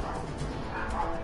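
Household dogs barking in the background behind a video game session, a few muffled bow-wow barks and yips set in a noisy, busy mix.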